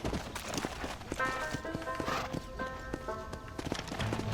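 Horse hooves drum in a fast, steady gallop in the Red Dead Redemption western game, loud and close, with rhythmic clip-clop beats under game ambience and faint talk.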